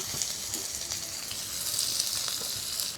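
Chopped onion fries in hot mustard oil after a black cumin tempering, giving a loud, close, steady sizzle and hiss with light crackles throughout. No one talks.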